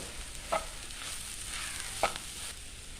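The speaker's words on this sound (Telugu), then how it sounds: "కొద్దిగా నెమ్మదిగా అంటే స్టవ్ని తగ్గించి చిన్నగా ఫ్రై చేసుకోవాలి" Fish pittu with spring onions frying gently in a pan over a low flame: a soft, steady sizzle with two brief scraping stirs about a second and a half apart, no voices.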